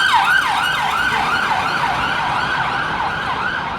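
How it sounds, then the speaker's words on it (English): An ambulance siren wails loud and close, its rising and falling sweeps repeating in a steady cycle over road traffic noise, then holding a sustained tone as it passes. "Ambulance. Hopefully they're not going to a knife crime incident."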